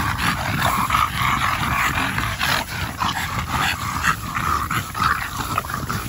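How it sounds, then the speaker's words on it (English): French bulldog puppies out in the snow growl and let out short yips, a busy close-range scuffle of small dog noises that keeps up for several seconds. "Check out them snow puppies, man"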